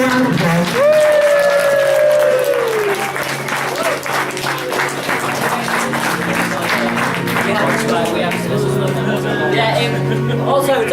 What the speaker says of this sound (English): Everyone give me a round of applause